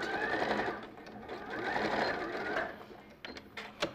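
A domestic sewing machine stitches fabric in a steady, fast whirring run for most of the stretch, then slows and stops, leaving a few brief clicks and taps close by.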